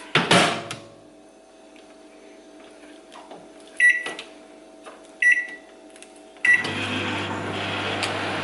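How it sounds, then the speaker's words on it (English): A microwave oven has a door closing, a few button beeps, and then a steady humming drone as it starts running, all close by. "She going in the microwave."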